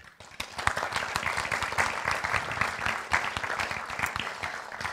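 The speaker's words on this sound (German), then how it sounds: "Applaus" Audience at a German panel discussion applauding a guest; clapping starts after a brief pause, builds quickly and stays moderately loud and busy, with individual claps distinct in the crowd.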